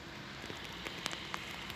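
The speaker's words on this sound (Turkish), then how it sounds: "Şu an bayağı bir yağmur yağıyor." Heavy rain falls steadily outdoors, a dense constant hiss with scattered sharper drop taps and crackles, close and even throughout with no talk.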